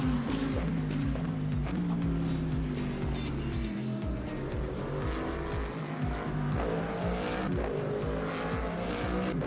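Hypercars race in Le Mans Ultimate, a simulated endurance racing game, with layered engine whines rising and falling through gear shifts and bursts of tire squeal, loud and continuous with several cars overlapping.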